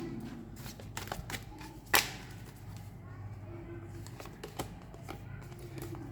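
Tarot cards are shuffled and drawn in a quiet room, producing soft riffling and sliding rustles with one sharp slap of a card, steady and close throughout.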